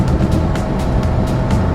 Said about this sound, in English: it's a 3-cylinder, 2-cycle engine